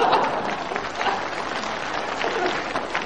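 Sustained audience applause from a crosstalk comedy show fills the room, a dense, even wash of many hands clapping with no break.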